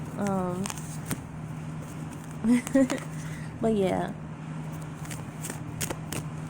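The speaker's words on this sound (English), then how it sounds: "I'm just shuffling back here and I'm gonna bring them out." A deck of cards is shuffled by hand, giving soft papery riffles and scattered taps close by, mixed with a few brief spoken words.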